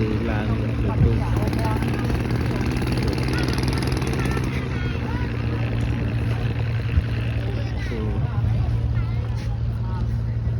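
A boat's engine drones steadily and loudly throughout the crossing to King's Island (Koh Sdach) in Koh Kong province, Cambodia, a constant low hum with no break.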